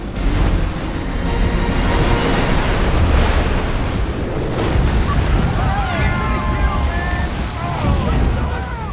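Loud rushing ocean surf from large waves in a film, with heavy wind buffeting, a roaring wash of water that swells and ebbs, with faint calls from onlookers in the background.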